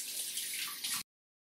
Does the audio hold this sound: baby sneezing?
no